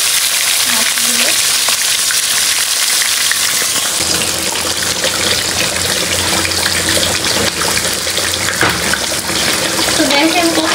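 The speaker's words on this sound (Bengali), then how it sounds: "এগুলো ভাজা হতে থাকে মাছগুলো" Pieces of fish fry in a hot pan with a loud, continuous hiss of bubbling oil and occasional soft stirring or wet crackles throughout.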